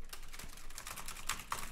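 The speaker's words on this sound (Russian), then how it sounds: "Я сейчас жамкаю по клавишам, и ни хера не происходит" Keys on a computer keyboard are pressed in a quick irregular series of close, crisp clicks, with no voices.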